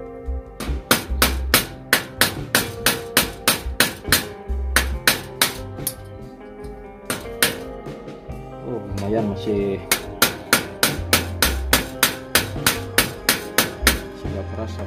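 A hammer drives a large nail against a rusty, seized bicycle freewheel in rapid, sharp metallic strikes, bunched in quick bursts with short pauses, while someone talks briefly between them.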